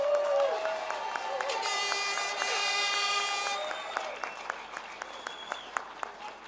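Outdoor crowd at a farmers' protest against inheritance tax in central London, with a sustained tonal whistle or horn and crowd noise early on, then settling into steady rhythmic clapping that continues to the end.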